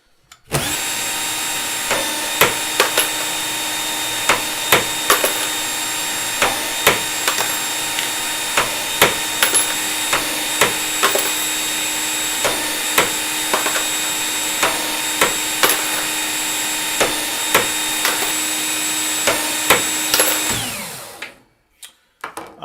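Brass cartridge cases trimmed on a powered case trimmer, a steady high-pitched whirring motor with a regular run of sharp clicks and taps as each case is cut, ending as the motor spins down.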